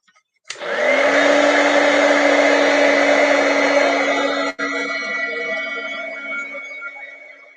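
A dryer blows steadily on freshly inked paper tags, a loud, even whir with a high whine that starts abruptly, holds for several seconds with one brief dip, then carries on with no talking.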